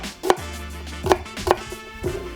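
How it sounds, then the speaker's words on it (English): Knife slicing an onion on a board, four distinct chops at an uneven pace, fairly close and clear with no talking. "So now it's time to start slicing up our ingredients."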